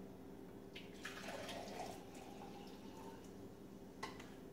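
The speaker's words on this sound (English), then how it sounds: "Take my coffee and pour it over the sink." Coffee poured down a kitchen sink gives a soft, steady trickle of liquid with a few faint drips and splashes, quiet and close, with no talk.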